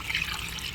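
Water trickles and splashes briefly as it is poured into a pot of cooking red-chilli turkey curry, a soft, close, continuous liquid flow.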